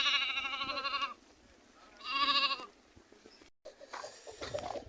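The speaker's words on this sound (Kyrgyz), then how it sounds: "Мындай аябай куйруктуу 3 айлык козуларма булар." Three-month-old fat-tailed lambs at a farmyard near Bishkek bleat in two loud, wavering calls, then a fainter third bleat rises among light background noise.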